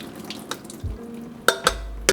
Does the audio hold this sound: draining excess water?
yes